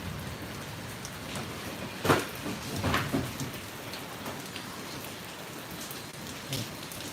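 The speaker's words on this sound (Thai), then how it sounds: "ฝนตกแล้วครับ" Steady rain pattering on surfaces in Mukdahan, Thailand, with a few louder gusts or splashes cutting through the constant hiss.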